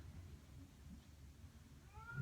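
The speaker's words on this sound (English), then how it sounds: "You can hear the cat's going crazy. She wants to come in." Near the end of a quiet stretch, a cat lets out a single short meow, faint and somewhat distant.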